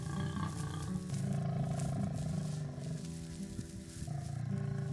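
Lions roar in the wild, deep drawn-out groaning calls repeating one after another, loud and close, with several overlapping voices and no talk.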